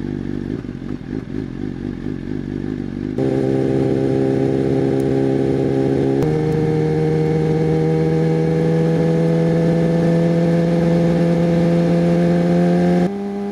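Chopper motorcycle cruising on the road, a loud, steady engine drone that shifts pitch at a couple of gear changes, close and continuous with no talking.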